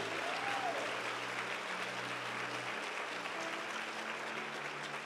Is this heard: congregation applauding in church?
yes